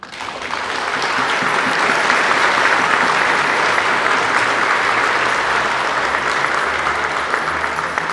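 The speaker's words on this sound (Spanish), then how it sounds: "Quiero que le demos un aplauso." A church congregation applauds during a Eucharist celebration, a full, even wash of clapping that swells in quickly and holds steady for several seconds before easing slightly.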